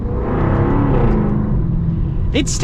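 A 2023 Jaguar F-Type P450 R-Dynamic engine rumbles and revs loudly up close, a deep throaty exhaust drone that holds steady, with a brief higher squeal near the end.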